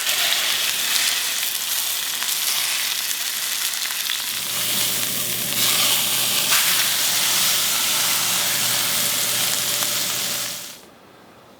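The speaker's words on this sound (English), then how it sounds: "I'm gonna put my corned beef in, get it really nice and brown" Corned beef sears fat side down in oil in a hot cast iron pan, a loud steady sizzle with hissing spatter that holds throughout, then cuts off abruptly near the end.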